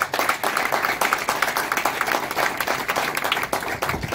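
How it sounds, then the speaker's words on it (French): Crowd applause at a political rally for a 2025 presidential candidacy announcement, a steady wash of clapping with cheering at moderate volume, continuous throughout. "j'ai cité Marc Ulrich Malekou, sous vos acclamations encore"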